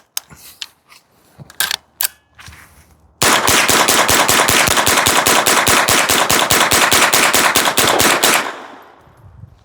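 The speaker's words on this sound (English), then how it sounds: "All right, 25 rounds of that OEM CCI" A CMMG .22lr conversion in a bufferless AR fires 25 rounds of CCI ammunition in one fast, unbroken rapid-fire string of loud, sharp cracks, after a few scattered clicks and handling noises.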